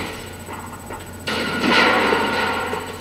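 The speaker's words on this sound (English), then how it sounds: "these gates you can destroy by shooting." A destructible gate in Metroid Prime is blasted by the arm cannon. A low ambient hum gives way to a sudden loud impact and a crackling, rumbling burst that slowly fades.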